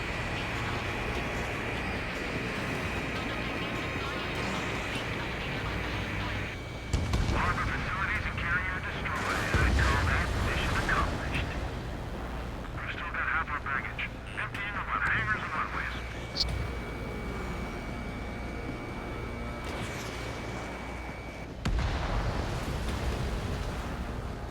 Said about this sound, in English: The harbor's under heavy fire!